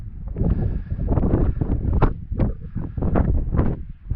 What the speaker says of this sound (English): A bit breezy up here.